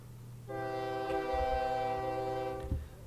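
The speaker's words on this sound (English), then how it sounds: "I'm sending 5 more trains out" A train horn sounds in the OpenTTD railway game, one sustained tonal blast lasting about two seconds over faint rumbling, then cutting off.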